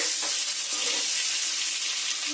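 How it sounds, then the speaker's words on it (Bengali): Eggs seasoned with turmeric and salt fry in hot oil, giving a dense, continuous close sizzle and crackle with no pauses and no talking. "এবার তেলের মধ্যে ডিমগুলো দিয়ে ভেজে নেব।"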